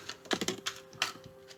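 Tarot cards being shuffled give a quick run of light, crisp taps and flicks, close and fairly quiet, in an uneven rhythm with short gaps between bursts.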